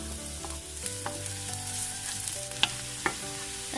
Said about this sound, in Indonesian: bawang merah